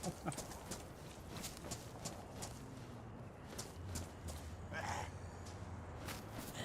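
A horse caravan's hooves clip-clop in the video game DayZ, a steady rhythm of fairly close, repeated hoof strikes under faint wind-like noise, with occasional soft breaths or snorts.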